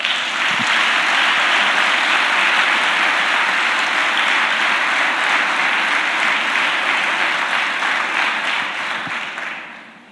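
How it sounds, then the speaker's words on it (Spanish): A church congregation applauds loudly and steadily for about ten seconds, a dense sustained wash of clapping that tapers off at the end. "la iglesia aquí presente los saluda con un fuerte aplauso"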